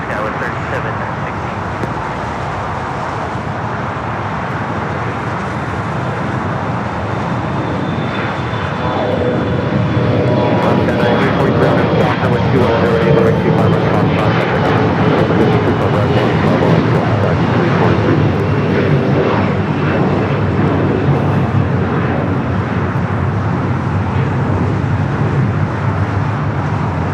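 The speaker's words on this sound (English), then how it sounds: "Got an E-Jet now rolling down at 25 at right" E-Jet airliner rolling for takeoff on runway 25 right at LAX, a loud sustained jet engine roar that swells and holds steady, with radio chatter and voices over it.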